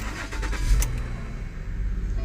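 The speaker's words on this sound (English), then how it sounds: "let's see if this will start the car" A 2012 Lincoln MKZ with a 3.5-litre engine and AWD starts up with a brief cranking burst, then settles into a steady low idle rumble that is close and fairly loud.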